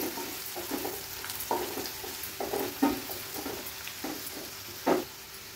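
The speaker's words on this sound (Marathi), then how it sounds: "मसाले तेलावर थोडेसे परतून घ्यायचे" Turmeric, homemade Agri Koli masala and garam masala fry in oil with a soft sizzle. Several distinct stirring scrapes break in every second or so, close and fairly quiet, with no talk.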